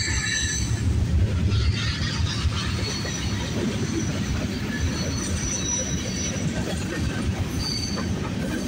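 CN and CP freight trains meet and pass, one hauling a BNSF unit, with a steady rumble of railcars, clattering wheels and high squeals running throughout.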